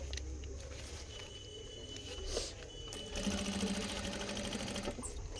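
A sewing machine stitches a belt onto a saree, with a steady fast mechanical whirring and rattling, close and moderately loud. It picks up into a quicker, busier run partway through.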